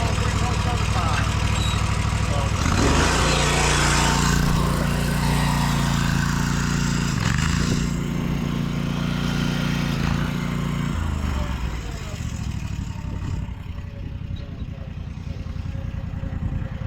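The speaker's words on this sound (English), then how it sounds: "I'm going to get on the other mower and cut this piece real quick." A riding lawn mower engine drones loudly and close, holding a steady low hum before the pitch shifts and settles into a rougher idle-like rumble, with a voice occasionally over it.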